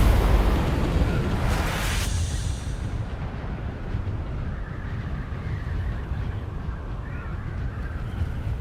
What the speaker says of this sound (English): I feel like there has been a lot of explosions in my small amount of time out here in the deep desert tonight.